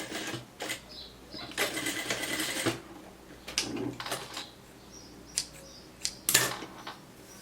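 Sewing machine stitching together the ends of an elastic band for a cropped top with a flared triangle sleeve, running in several short bursts of mechanical whirring separated by pauses, close and moderately quiet with faint handling noises between runs.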